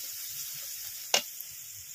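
Turmeric powder sizzles in hot oil with a faint, even high hiss, broken by one brief sharp crackle. No voices are heard.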